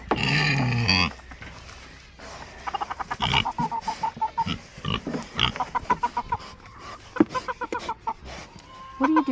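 Farm chickens clucking, several birds making repeated short clucks and calls close by, with a louder squawk at the start and pigs present, as a voice speaks quietly now and then.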